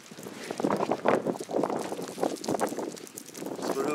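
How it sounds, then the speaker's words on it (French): Gusty wind blowing outdoors along a walking trail on a drizzly day, a rough, close rush buffeting the microphone and swelling and easing in uneven gusts throughout. "le vent est assez taquin par moment"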